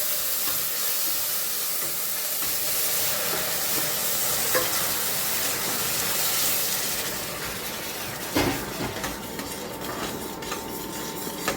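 Hot water is poured bit by bit onto vermicelli roasting in a pan. It throws up a loud, steady broadband sizzle with stirring scrapes, and a sharper hissing burst flares near the end.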